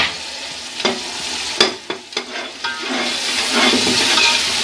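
Spice masala and peas with tamarind are stir-fried in a pan for pulao, with clattering spoon scrapes and knocks over a sizzle that swells louder and steadier toward the end.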